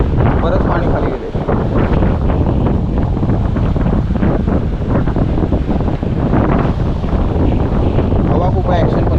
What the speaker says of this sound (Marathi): हवा खूप आहे